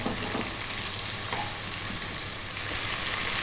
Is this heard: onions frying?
yes